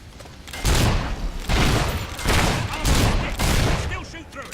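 Gunfire in the video game Fable III, loud bursts that come in several heavy waves about a second apart, close and booming, with a voice heard in between.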